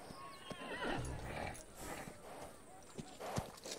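A horse whinnies loudly up close, with a few hoof clip-clops and stamps scattered around it, amid faint background movement.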